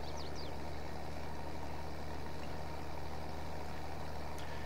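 A tractor engine in Farming Simulator 22, out on a Saskatchewan farm while small square straw bales are being made, drones at a steady, continuous hum with heavy low rumble throughout, fairly loud and unchanging, with no talk over it.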